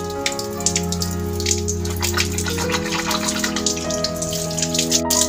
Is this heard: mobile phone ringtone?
no